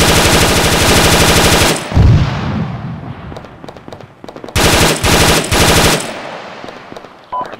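Loud, close automatic machine-gun bursts in an Arma 3 team-versus-team match on the Myshkino map, a long rapid stream, a pause with echoing tail, then two more sustained bursts.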